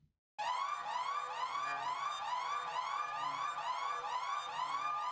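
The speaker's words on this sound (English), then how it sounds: "Probably an ambulance." An ambulance siren from the video game Everhood 2 wails loud and close in a steady, repeating rising-and-falling cycle after a brief silent start, with no talk over it.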